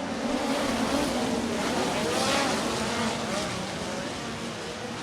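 A pack of USAC midget race cars roars away at the start of a race at Jefferson County Speedway, a dense sustained engine drone heard from a distance with crowd ambience, and an announcer speaking over it.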